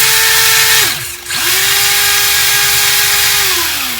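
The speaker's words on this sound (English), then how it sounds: "Full throttle forwards, full throttle in reverse and turning." A small RC drift car's electric motor whines loudly at full throttle, dropping briefly as it switches from forwards to reverse, then whining again at a steady high pitch before winding down, with a fan running in the background.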